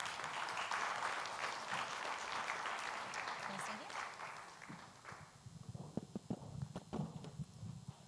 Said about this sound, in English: if you could all give Ms. Ariba a round of applause